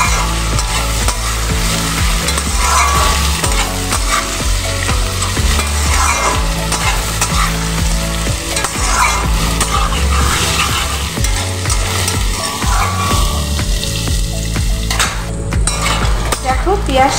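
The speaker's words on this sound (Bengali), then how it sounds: "আলুর সঙ্গে একসঙ্গে পেঁয়াজটা আমি ভেজে নিচ্ছি।" Onion frying together with potatoes in a pan for a pomfret dish, loud continuous sizzling with frequent stirring and scraping of a utensil against the pan, no voices.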